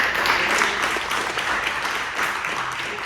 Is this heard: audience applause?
yes